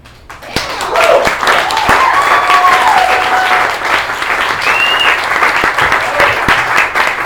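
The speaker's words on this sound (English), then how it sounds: "Clap it up for Renda" Audience applause and cheering for poet Renda Writer at a Def Poetry Jam stage show, a loud burst of dense clapping rising quickly and holding steady, with whoops and shouts from the crowd.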